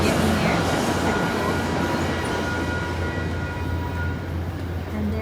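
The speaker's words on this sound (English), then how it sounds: "there's the trains coming by right as we're getting there" A train rolls past a station, a steady, loud rumble with low mechanical drone and rail noise filling the whole stretch, close by and continuous with no talking.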